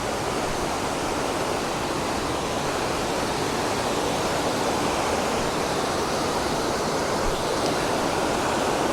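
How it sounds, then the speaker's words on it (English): The Squamish River in British Columbia, a whitewater river, rushes with a dense, continuous roar of churning water, loud and unbroken throughout with no voices. "This is the Squamish River, and it is a very popular river for whitewater kayakers"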